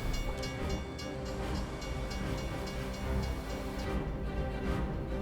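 A train rolls toward a level crossing in Enid, Oklahoma, a steady close rumble of rail cars with a dense low drone and light clatter running unbroken throughout.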